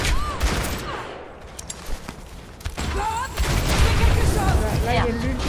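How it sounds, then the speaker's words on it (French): Ashe's B.O.B. ultimate in Overwatch opens fire in a dense, loud stream of rapid shots with booming impacts, building over chaotic game effects while someone talks over it. "Voilà, là il y a l'ulti, c'est Bob."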